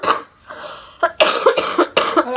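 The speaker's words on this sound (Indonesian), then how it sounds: "Aku mau batuk." A person coughs in a loud close burst, pauses, then lets out a rapid series of harsh repeated coughs in a quiet room.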